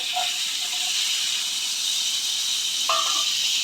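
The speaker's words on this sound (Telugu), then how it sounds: "ఇప్పుడు వేపుకుంటున్న ఇలా లైట్గా దీన్ని వేపాలి" Garlic and cashews frying in oil in a kadai, a steady loud hiss lasting throughout, with a brief utensil clink near the end.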